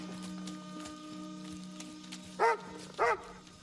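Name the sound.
dog barking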